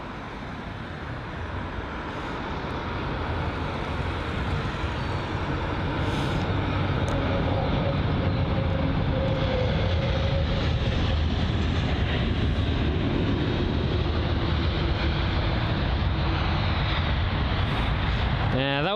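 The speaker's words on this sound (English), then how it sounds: "That was a decent landing. It was quite smooth." An Airbus A330-300 from Istanbul lands at London Heathrow with a smooth touchdown, sending out a sustained broad jet roar that builds during the opening seconds and then stays loud and even, with faint talk under it.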